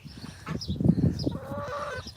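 Chickens cluck in short, close bursts, a few overlapping calls over about two seconds.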